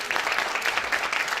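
Brief, fairly soft round of audience applause for a panel at a social cohesion dialogue, steady dense clapping heard from a distance.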